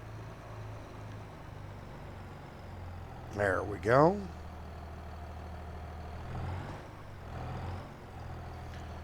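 Tractor engine in Farming Simulator 22 while parking, a quiet steady idling drone throughout, with a brief louder rising whine near the middle before settling back; someone talks briefly over it.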